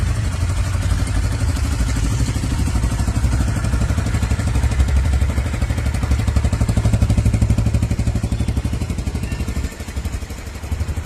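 A used trail motorcycle at a salvage sale runs steadily, its engine chugging with a loud, close, rapid putter that holds an even idle throughout and dips briefly near the end, with no talk.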